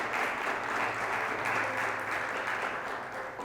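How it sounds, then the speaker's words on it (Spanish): A studio audience applauds a guest, Anita Merino, with steady, even clapping that fills the room throughout without a break. "Por favor, un aplauso para Anita Merinos."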